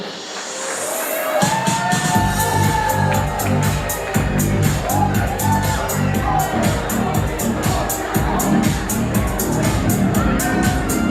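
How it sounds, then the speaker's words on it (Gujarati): Applause and cheering from an audience at the Kalrav 2024 reunion of Sailendra School's Gujarati-medium section, a dense, continuous wash of clapping with scattered shouts and crowd babble that swells in after a brief quieter opening. "તાળીઓનો ગડગડાટ"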